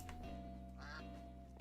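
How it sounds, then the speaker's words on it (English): Ducks quack in a modded Minecraft world, several calls bunched in the middle over a steady hum of low game ambience and music. "There's a lot of ducks."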